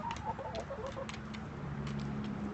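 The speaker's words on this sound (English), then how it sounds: "Hey chickens, good morning." Backyard hens cluck in soft, scattered bursts against a steady low background hum, close by, with no one speaking.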